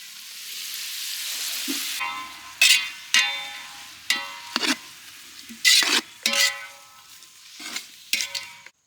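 Onion, tomato, coriander and mint are sautéed for biryani in a pan. Loud frying hiss is followed by bursts of sizzle and scraping as the ingredients are stirred, with irregular spatula strokes close up and no voices.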